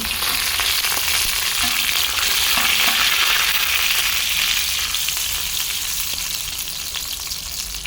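Garlic, cumin, mustard seeds, dried red chillies and curry leaves sizzle and crackle steadily in hot oil for a Telugu lentil rasam tempering, a dense continuous frying hiss with occasional sharper pops and stirring, no talk.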